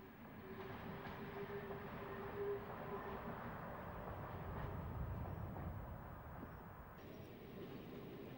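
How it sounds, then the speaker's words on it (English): A diesel multiple unit train rumbles along the Wroxham line in Norfolk, a steady, muffled mechanical drone with a faint tonal hum, heard at a moderate distance. "This DMU is in fact taking the Wroxham line."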